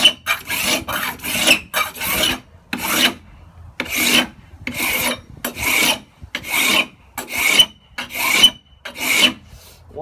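Hand scraping high spots off a metal surface: about ten rhythmic rasping strokes, each a short, bright scrape followed by a pause, close and clear with no talking.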